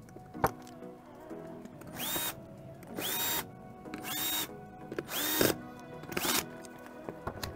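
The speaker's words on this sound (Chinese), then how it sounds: "就是安装这种散热器的扣具的时候，就是不要一下把一个螺丝拧到底，就是两边同时一点一点拧。" Screws driven into a CPU cooler mounting bracket during a PC build, short bursts of an electric screwdriver whirring in quick repeated pulses, close and clear with small clicks between.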